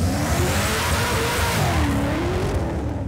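Loud roaring drag racing cars accelerating hard down a 200-metre strip, a sustained high-revving drone with a rising pitch sweep as the vehicles speed past.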